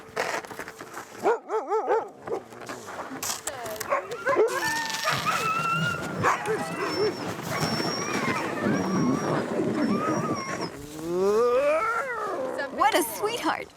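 Sled dogs in Ikerasak, a small Greenland Inuit village, bark, howl and whimper in a loud, overlapping chorus close by, with people talking among them throughout.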